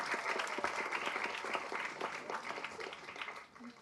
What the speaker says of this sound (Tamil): கைத்தட்டுங்க அவங்களுக்கு.